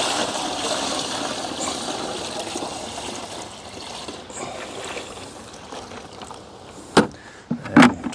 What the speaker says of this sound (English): So in my case, I'm just going to refill the bucket.